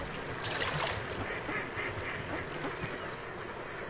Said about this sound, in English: As dawn breaks over Lung Lake, competing ducks clamor for their favorite spots.